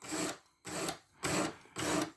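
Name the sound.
sharpening a Sitivien ST147 14C28N knife blade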